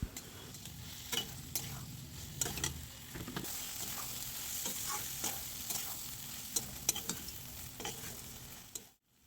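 Peas are stirred with spices in a pan for matar paneer, a low, steady sizzle broken by sharp, repeated clicks and scrapes of a spatula against the pan, close by, ending abruptly in silence.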